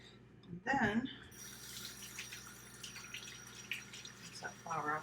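A kitchen tap runs steadily as flour is rinsed off hands, giving a continuous splashing hiss after a brief, louder opening burst.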